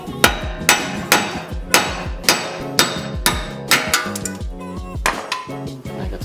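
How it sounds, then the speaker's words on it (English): Sharp metallic hammer blows ring out one after another at a steady, fairly quick pace, knocking a wheel stud out of a Lexus GS300 hub, each strike close and loud with a short clanging decay. "you can get to the stud, hammer the stud out"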